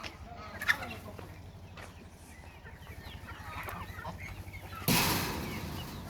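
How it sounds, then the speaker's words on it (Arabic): Ornamental chickens and young chicks cluck and chirp close by in a large pen, with calls scattered through the scene, a loud burst of noise near the end, and faint talk in the background. "هاي الدجاج فراريش"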